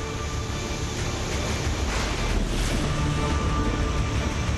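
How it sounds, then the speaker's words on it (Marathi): The Yerala river in Sangli runs in full flood after heavy rain, a dense, constant rushing of water with wind buffeting, loud and unbroken, with no voices. "सांगलीची येरळा नदी पावसामुळे दुथडी भरून वाहू लागली"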